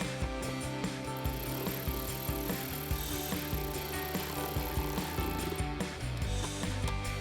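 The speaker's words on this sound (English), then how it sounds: "we're going to get that tightened down with our 10mm socket" A hand ratchet with a 10mm socket tightens a factory screw on a cold air intake in a Corvette C7 engine bay, giving quick rhythmic clicking strokes close up over a low background hum.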